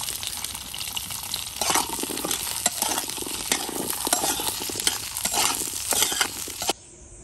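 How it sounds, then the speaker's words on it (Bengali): Onions fry in a pan, a continuous loud sizzle with scraping stirring strokes at intervals, alone, cutting off abruptly near the end. "তো বন্ধুরা এখন আমি পেঁয়াজগুলো ভেজে নিব।"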